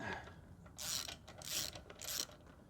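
A ratchet with a 13/16 socket loosening the spark plug on a Honda GCV160 push mower engine: three close bursts of rapid metallic ratcheting clicks, each under a second, with short pauses between them.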